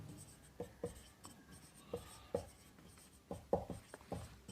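Chalk tapping and scraping on a classroom board during a science lesson, a series of short distinct strokes in an irregular rhythm, close and fairly quiet, with no talk over it.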